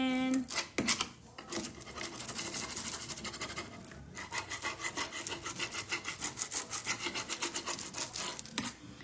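A dresser drawer finish is rubbed by hand in steady, rapid back-and-forth strokes, a close scratchy rasping with a quick rhythmic pulse and brief pauses.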